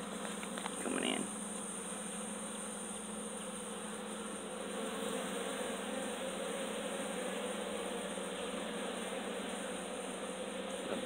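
Honeybees buzzing thickly around a hive entrance as pollen-laden foragers fly in, a steady dense drone with a brief closer buzz near the start, no talking.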